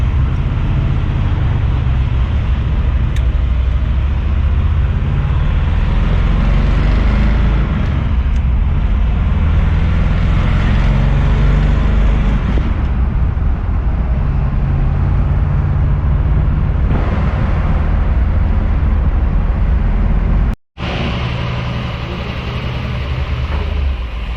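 A 1964 Ford Galaxie 500 convertible with a tri-power 482 cubic inch V8 and mild cam drives on the street, a steady loud low engine drone with road noise that cuts out briefly near the end.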